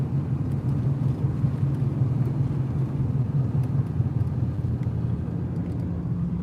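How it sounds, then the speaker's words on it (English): Norfolk maintenance truck driving past on a street, a steady low engine rumble and road noise that stays fairly even throughout. "Here comes the Norfolk maintenance truck."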